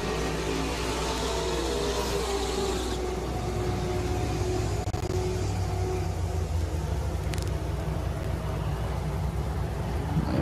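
Drag racing cars roar down a racetrack at an NMCA event in Martin, Michigan, heard from a distance as a steady rumbling engine drone with no talk over it.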